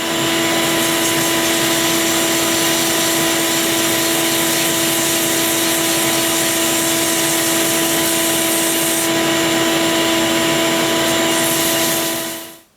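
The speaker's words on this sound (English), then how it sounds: "we're going to go ahead and give this a little bit of a sanding." A lathe spins a wooden honey dipper while sandpaper rubs against it, giving a loud, steady whirring hiss with a constant motor hum that winds down abruptly at the end.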